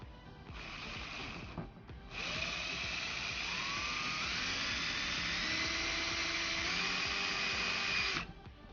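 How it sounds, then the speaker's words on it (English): A power drill bores holes through a Mercedes G500 W463 door panel map pocket, whining in two bursts, a short one then a long sustained run with pitch shifting as it cuts, fairly close. "We're going to drill the hole from top, so that way we know where it's going to be on the other side."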